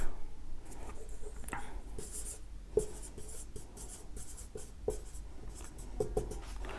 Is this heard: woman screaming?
no